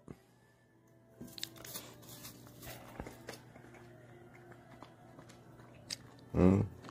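A dog chews meat at close range: scattered soft bites and wet smacks over a quiet room, ending in one louder chomping burst.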